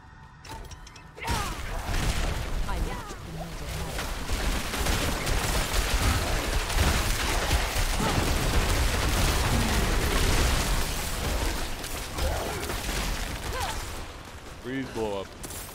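Dense, loud game combat from Diablo 4 as Sorceress spells freeze and blow up enemies, a continuous barrage of bursts, pops and booms layered under speech throughout.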